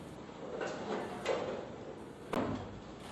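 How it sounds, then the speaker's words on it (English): Alligator E 275 metal bandsaw head being unlocked by its lever and swivelled for mitering: a few soft clunks and sliding scrapes, with a sharper knock near the end, fairly close and moderate in level. "mitering is done by unlocking the lever here and swivel the head round past 45, right up to 60 degrees"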